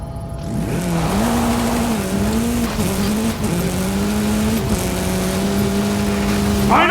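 Hoonigan RS200 rally car in a racing video game, its engine note climbing and dropping through repeated gear changes in a loud, continuous run with brief tire squeal.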